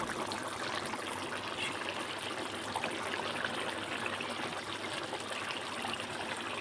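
Lote fish curry (Bombay duck jhol) left to simmer in a pot, giving a steady, continuous bubbling and gurgling hiss close by, with no talk.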